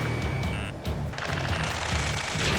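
Automatic gunfire crackles in rapid, rhythmic bursts during a ground firefight in Ace Combat 7: Skies Unknown, loud and continuous with no pause.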